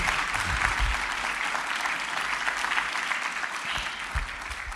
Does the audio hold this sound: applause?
yes